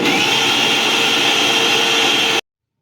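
A mixer grinder blends warmed, cooled milk into a drink with a loud, steady high whir held for over two seconds, then cut off abruptly into silence.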